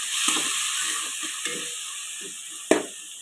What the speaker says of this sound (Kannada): ಈರುಳ್ಳಿ ಬೆಂದ್ಮೇಲೆ ಈ ಟೊಮೆಟೊ ಹಾಕ್ಬೇಕಾಗತ್ತೆ. ಇದನ್ನು ಹಾಕಿ ಚೆನ್ನಾಗಿ ಫ್ರೈ ಮಾಡಬೇಕು